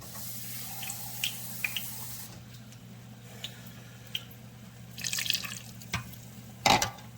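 Regular water trickles and splashes into a pot while cooking, soft drips and a brief louder pour near the end over a steady kitchen hum.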